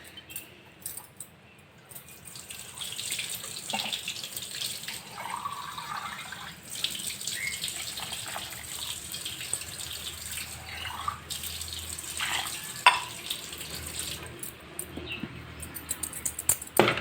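Water is poured into a rice flour mixture in uneven bursts of trickling and splashing, with a few light clinks from the vessel and brief quiet gaps between pours.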